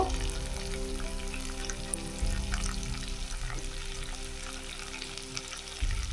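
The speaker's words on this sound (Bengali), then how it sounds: "এইবারে আস্তে আস্তে শুকনো মশলাগুলো দিয়ে দেবো। হলুদ গুঁড়ো," Dry spices fry in hot oil for a crab curry, a steady close sizzle with occasional stirring scrapes and a low hum underneath.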